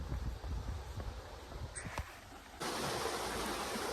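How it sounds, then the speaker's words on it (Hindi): Continuous broadband water rush from a nearby river fed by lake water in Burabay National Park, Kazakhstan, steady and fairly loud, growing fuller partway through as the flow comes closer, with no voices. "थोड़ी सी आगे ना पानी की साउंड आ रही है, या तो वहाँ पे पक्का नदी होगी या फिर कोई झरना होगा"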